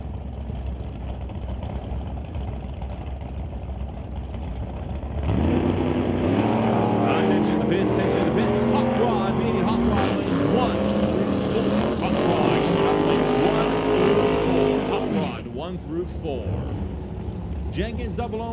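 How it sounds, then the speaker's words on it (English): A Chevy S10 and a 1967 Camaro at a drag race, engines idling before a loud sustained roar of revving builds for about ten seconds and drops off, with an announcer talking throughout. "The West Coast Building Restorations, McKenzie Racing, Bubba Speed Shop S10 will go up against the 1967 Camaro out of Shoreline, Washington, driven by Fred"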